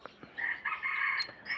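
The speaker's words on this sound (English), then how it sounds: "I have to attend to the chicken." A rooster crows in a garden on a summer morning, one long drawn-out call with a few short clucks around it, close and clear with no talk over it.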